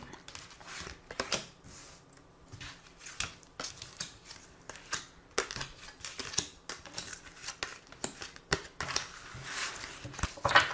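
Tarot cards are shuffled and drawn by hand, making soft riffling flicks and papery snaps in uneven bursts close up, with no voices.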